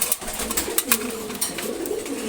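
Domestic pigeons, including red checker birds, coo softly at morning feeding, a continuous layered burble of low throaty calls from several birds nearby, without speech.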